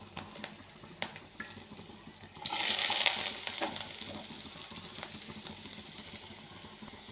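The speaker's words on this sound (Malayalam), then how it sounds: "എണ്ണ ചൂടായി വരുമ്പോൾ ഇഞ്ചി വെളുത്തുള്ളി, പച്ചമുളക് ഇട്ട്" Ginger, garlic and green chili drop into hot oil, a sudden loud burst of sizzling that swells for about a second, then settles into steady crackling frying with occasional stirring clicks, close up and without speech.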